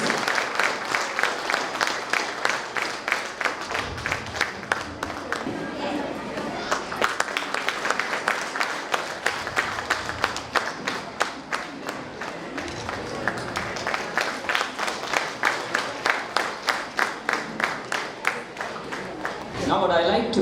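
An audience at a school Universal Brotherhood Day event applauds the chief guest, with sustained rhythmic clapping from many hands in a hall lasting the whole stretch.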